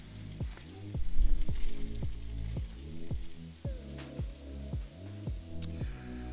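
Breakfast sausage frying in a pan, with a steady close sizzle and crackle running through the whole stretch, loud and continuous with no talking.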